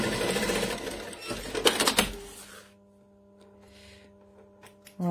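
A sewing machine runs a stitching burst on a fabric pouch, loud and busy for about two seconds before stopping, leaving only a faint hum and a few light clicks.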